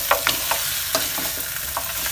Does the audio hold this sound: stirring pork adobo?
yes